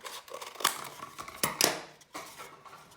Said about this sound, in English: we're going to use our scissors and we will just cut it in half